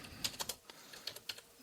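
Quick bursts of typing on a computer keyboard during coding, light clicky keystrokes in short irregular runs with brief pauses, close and fairly quiet.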